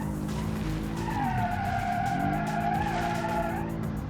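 A car in BeamNG skids after overusing the handbrake, its tires squealing in a long, sustained screech over a steady engine drone, loud and close throughout.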